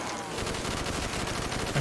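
Rapid gunfire in the zombies mode of Black Ops III rattles in a dense, continuous burst of repeated shots at moderate loudness, without speech.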